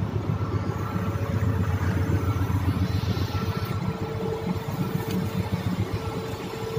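Ship steering gear running during an emergency operation test, a steady close mechanical hum with rapid throbbing pulses that drones on without pause.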